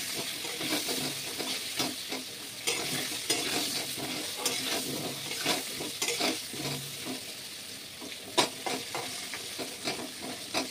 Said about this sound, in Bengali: আলুটা পুরো ভাজা হয়ে গেছে।